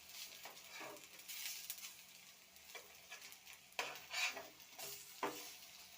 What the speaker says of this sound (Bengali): এবার সেকেন্ড ব্যাচটা ভেজে নেব